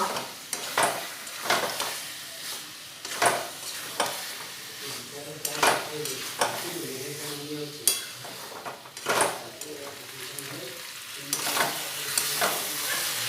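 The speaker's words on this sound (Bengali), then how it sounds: "এবার ওতে দিয়ে দেবো ধনেপাতা কুচি, দিয়ে নাড়াচাড়া করে মিশিয়ে নেব।" A spoon stirs chicken curry with potatoes and chopped coriander in a pot, giving repeated scraping strokes in an irregular rhythm over a soft sizzle, close and moderately loud.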